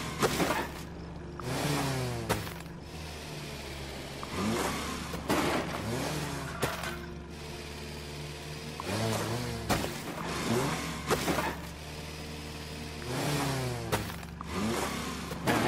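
Tractor engine in the farming video game Farm Together, revving and accelerating in repeated rising bursts with loud, continuous motor drone and no talk over it.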